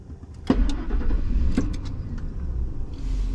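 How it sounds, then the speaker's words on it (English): A 2001 Ford F-150 pickup engine cranks and catches about half a second in, then settles into a close, loud idle with a couple of quick mechanical clicks and no talking. "You see the truck starts."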